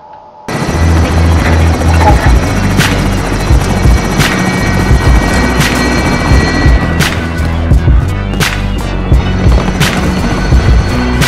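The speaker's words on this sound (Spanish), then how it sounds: "Helicóptero de ataque enemigo en camino para extracción." Enemy attack helicopter in Call of Duty Warzone, a loud close rotor thrum that starts abruptly and holds steady throughout, with sharp periodic clanks and bursts cutting through.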